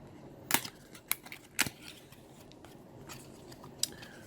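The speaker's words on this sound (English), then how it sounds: "I'm gonna just have to rip it" Cardboard game box for the DC Deckbuilding Game New Gods being torn open by hand, a few sharp crisp rips and crackles spaced out over several seconds, close and fairly quiet with no talking.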